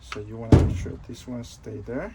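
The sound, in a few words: door opening or closing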